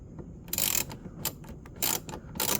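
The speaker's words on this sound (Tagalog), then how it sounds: "gamitin na natin yung ating ratchet and socket na 10mm" A 10mm ratchet and socket tightening a fog light bolt on a Hilux Conquest bumper, giving three or four close bursts of rapid clicking pawl ratchets separated by brief pauses.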